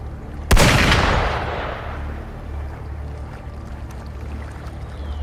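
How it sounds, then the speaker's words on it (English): One sharp, loud gunshot in the video game Wuthering Waves on PS5 cracks and rolls off in a long echoing decay, leaving a low ambient rumble behind. "Gunfire!"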